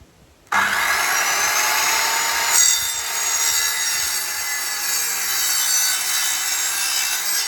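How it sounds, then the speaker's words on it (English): Power saw cutting through wood for a chicken coop build, a loud, continuous whining rasp that starts abruptly after a brief quiet and holds steady throughout, with no talking. "Be nice to have a saw that could cut all the way through 75mm."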